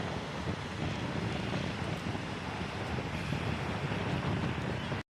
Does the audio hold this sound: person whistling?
no